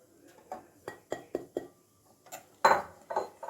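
A spoon stirs a flour batter in a bowl, giving a string of quiet, irregular clinks and scrapes against the bowl's side, with short pauses between strokes.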